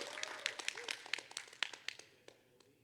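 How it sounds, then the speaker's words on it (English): Audience applause at the Everfree Northwest 2022 convention, honoring the con chair: a smattering of claps with distinct sharp hits over a softer wash, gradually thinning out by the end. "Round of applause."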